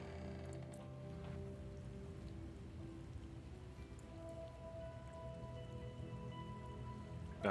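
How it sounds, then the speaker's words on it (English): Rain weather effect in the city-building game SimCity 5, a steady soft patter of rainfall on surfaces with faint background tones, continuous at low volume and no talk. "Got some rain."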